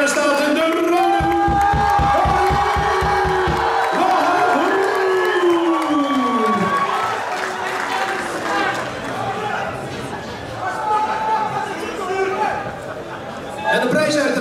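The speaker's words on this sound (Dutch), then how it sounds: "Mag ik als eerste een applaus voor deze twee kanjers?" A crowd at a Night of Generation fight event bursts into loud applause and cheering for two fighters, with whoops and chatter that gradually settle while an announcer speaks over the noise.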